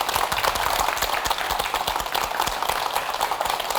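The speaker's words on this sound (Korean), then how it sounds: "박수로 환영해 주시죠." Studio audience applauding in steady, dense clapping as a guest orthopedic doctor is welcomed onto a Korean TV health program set, loud and continuous throughout.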